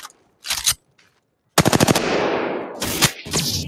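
Apex Legends weapons fire in short rapid bursts, then a longer stuttering volley and a few more sharp bursts, loud and close, with brief silences between.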